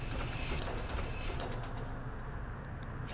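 Electric bus doors on a Solaris Urbino in the OMSI bus simulator game cycle with a mechanical whir and hiss, steady and close for about three seconds before the high hiss cuts off, with no talking.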